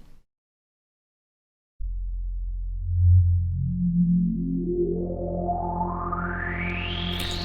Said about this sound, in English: you can hear the resonance really clearly sweeping up through the frequencies